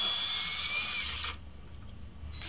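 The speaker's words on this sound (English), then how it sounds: "Now I'm drilling holes in the side of the block that will face the resin." A power drill bores into a wooden block, a steady high whine for a second before the motor drops off, then low rumbling handling noise and a small knock at the end.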